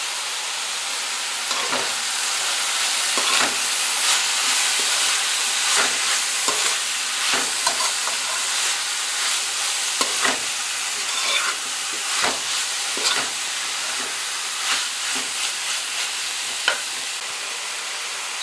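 Shrimp sizzling and frying in a hot pan while cooking for shrimp fried rice, a steady close hiss broken by irregular clicks and scrapes of stirring throughout, with no talk.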